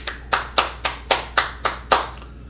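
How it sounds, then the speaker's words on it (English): About eight sharp, evenly spaced hand claps ring out close and clear in a slow, regular rhythm on a political talk show, with no voices. "Can I get applause?"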